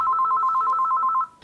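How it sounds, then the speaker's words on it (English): A telephone rings at a museum office with a rapid, steady electronic trill of about a dozen quick pulses, loud and close, then stops abruptly with no voices. "phone rings a little more often these days"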